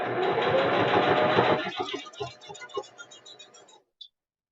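A sewing machine stitching fabric, a fast, loud mechanical whirring that stops after a second and a half, followed by a few slower, separate clunks and a last short click.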